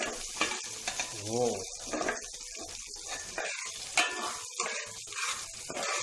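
Garlic and onion fry in a pot for sinigang na bangus, giving a crackling sizzle broken by stirring clatter, and a voice briefly exclaims.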